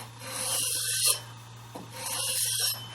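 Tomahawk axe blade rubbed in long rasping strokes across sandpaper mounted for sharpening, two drawn-out gritty passes over a low steady hum, close and fairly quiet.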